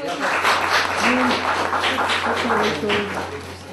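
Applause fills a room at an election commission meeting as flowers are presented, steady clapping from a group running under a voice talking over it.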